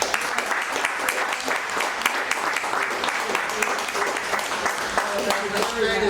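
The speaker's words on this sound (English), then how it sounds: "Let's give Denise a round of applause." Audience applause in a cigar lounge during a talk event, a dense, steady wash of clapping that carries on evenly for several seconds at moderate loudness.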